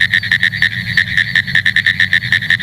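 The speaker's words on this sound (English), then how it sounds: "So that is the Pinewoods tree frog, Hyla femoralis." Pine Woods treefrogs (Hyla femoralis) call in a loud, close series of rapid, evenly spaced tapping notes, a steady Morse-code-like rhythm repeating throughout with no voices.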